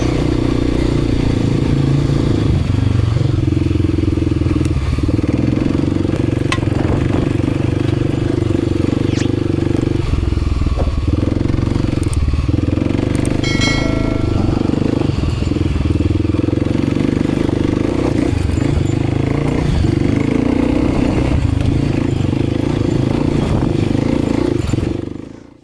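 Motorcycles riding up a desert wash in Death Valley, engines droning loud and constant throughout with rumbling, clattering wind-buffeted noise and slight revving as the bikes climb over rough ground.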